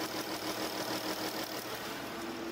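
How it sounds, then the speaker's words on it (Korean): A Chrysler 300C with a 3.6 engine idles under an open hood, giving a steady, smooth, fairly quiet hum with a soft even drone and no voices. "차량의 엔진 소음 먼저 들려드리면은"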